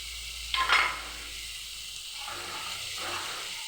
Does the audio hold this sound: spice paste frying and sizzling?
yes